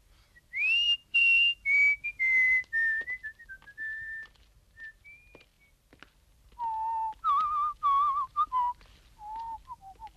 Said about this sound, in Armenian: Էդ ինչ ես սուլում